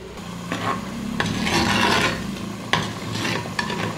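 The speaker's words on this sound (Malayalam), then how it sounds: "ഇതുപോലെ കൈ എടുക്കാതെ ഇളക്കി ഇളക്കിക്കൊണ്ടിരിക്കണം" Fish curry being stirred continuously in a pan without pause as the sauce boils down, a close scraping, rasping spoon stroke repeating in uneven bursts over a faint bubbling simmer.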